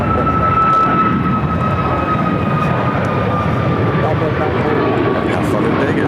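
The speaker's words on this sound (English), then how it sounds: "This is Southwest Flight 940 headed to Las Vegas on a MAX 8." A Southwest Boeing 737 MAX 8 jet airliner on its morning departure at Phoenix Sky Harbor gives a loud, constant engine roar with a high whining tone across the whole stretch, and a voice talks over it.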